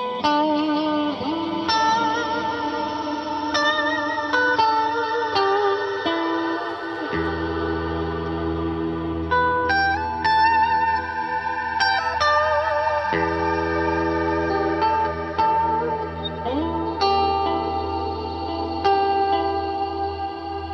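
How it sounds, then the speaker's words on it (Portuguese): Electric guitar played through a reverb pedal on a pedalboard, with a dark tone and shimmering, echoing chorus-like washes; sustained chords and picked notes ring out continuously and loudly for about twenty seconds with no talking. "E dá pra fazer umas loucuras com reverb também"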